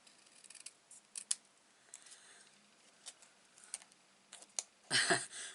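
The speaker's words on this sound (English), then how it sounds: "may have to trim a little bit off the bottom" Scissors trim card stock for a handmade greeting card in scattered soft snips and clicks, close and quiet, ending with a louder rustle of paper.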